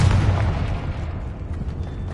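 A Confringo blasting spell from Hogwarts Legacy bursts as a loud, close boom whose rough rumble fades over about two seconds.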